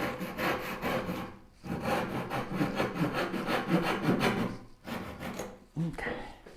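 A turning bow saw cuts through wood with close, loud, rhythmic rasping strokes, pausing briefly between runs of sawing.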